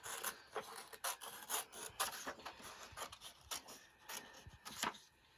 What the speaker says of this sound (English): Just cut down the folded edge in the middle.